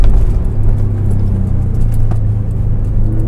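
A Subaru STI on KW V3 coilovers taking a corner quickly, heard as a steady low engine and road drone from inside the car, constant and fairly loud throughout with no talking.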